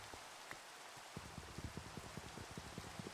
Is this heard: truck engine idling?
no